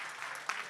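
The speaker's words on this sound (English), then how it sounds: "let's clap" Brief audience applause after an honorary lecture, a steady patter of clapping at moderate level that continues evenly for under a second.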